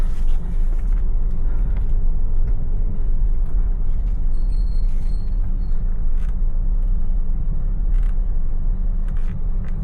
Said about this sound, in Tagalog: Hanggang dito na yung traffic.